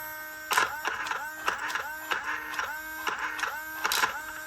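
A radio-controlled car's damaged steering servo whines loudly in repeated bursts of buzzing grinding, about eight pulses over a few seconds, close and harsh with no talk.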